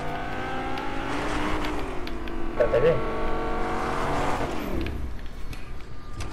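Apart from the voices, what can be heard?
car driving in Fortnite video game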